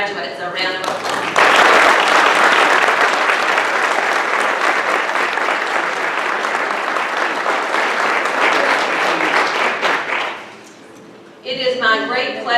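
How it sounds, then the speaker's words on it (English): Loud, sustained applause for graduates at a graduation ceremony, a thick roar of many hands lasting about nine seconds, with someone speaking just before it starts and again as it dies away. "Let's give our graduates a round of applause."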